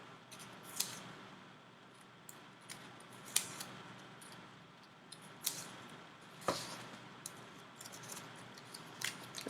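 Scissors snip through a paper cupcake holder in quiet, close, crisp cuts spaced irregularly over several seconds, with no talking.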